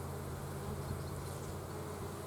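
Honey bees buzzing around an opened, messy hive, a continuous soft hum of many insects close by, steady and even with no voices.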